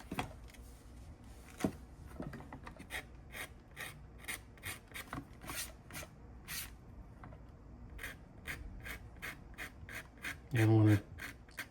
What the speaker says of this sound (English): Take my little scratch tool, lightly scratch the wood.